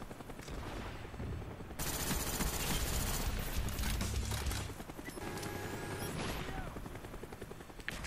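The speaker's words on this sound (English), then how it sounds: "What's up with all the helicopters?" Game audio from Call of Duty Black Ops multiplayer: a dense stretch of gunfire and explosions with rotor-like helicopter noise, loud and busy throughout, easing briefly before another burst of combat sound.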